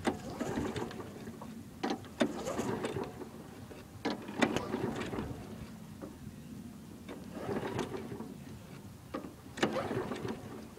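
A lawnmower engine runs at idle with a light, steady ticking from a faulty valve repeating beneath the motor's hum.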